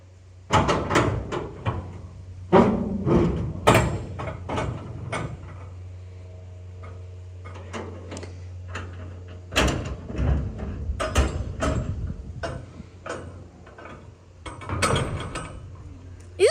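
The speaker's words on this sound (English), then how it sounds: "even the end door opens up. Look this side and I'll pull it open." The end door of a 20 ft high cube steel shipping container is pulled open, with repeated metallic clanks, latch rattles and creaking mechanism sounds in bursts, close and loud, and a voice briefly in between.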